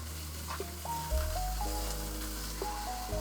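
Salmon skin fries in a pan, a steady soft sizzle running close and continuous beneath louder tonal background music.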